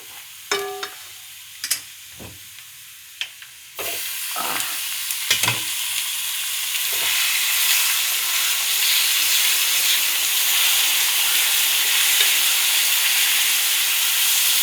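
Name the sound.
ground beef frying and being stirred in a pan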